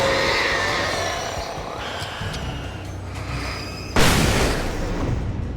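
A flash grenade bursts in the video game Alan Wake Remastered, a sudden loud blast breaking through a steady rumbling game soundscape and followed by a sustained bright hiss, with no speech.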